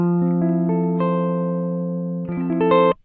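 Dry, unprocessed electric guitar signal through a BOSS SL-2 Slicer pedal with the balance knob fully left: a series of plucked notes that ring and sustain, then a quicker flurry of picked notes at the end, clear and alone.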